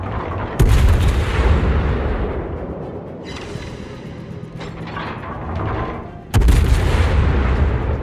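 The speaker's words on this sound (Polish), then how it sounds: "Salwa po salwie i podpalenie za podpaleniem." The American super cruiser Annapolis fires heavy gun salvos in World of Warships, with two loud booming blasts at the start and near the end and continuous rumbling battle noise and mechanical sounds in between.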